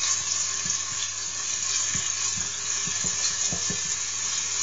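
Chopped onion fries and browns in a pot, a steady close sizzle with occasional soft stirring taps and scrapes, continuous and alone without talk.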